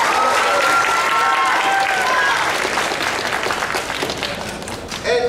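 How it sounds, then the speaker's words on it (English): Crowd applause at a cosplay costume contest at Spring Kraken Con 2015, a loud sustained roar of clapping with a few whoops and voices over it, tapering slightly toward the end before a final burst. "one more big round of applause for Robin"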